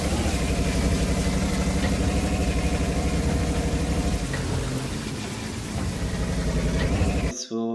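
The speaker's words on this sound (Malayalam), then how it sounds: "മഴയുടെ ശക്തി ഒന്ന് കുറഞ്ഞു വരുന്നുണ്ട് കേട്ടോ." Steady rain pours in a Truck Simulator video game, a dense, even hiss over a low idling engine rumble that eases slightly before cutting off abruptly near the end.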